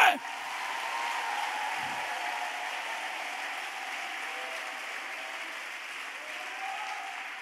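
A church congregation applauds to acclaim the Lord during a sermon, a steady wash of clapping that holds evenly for several seconds, with a faint voice in the background.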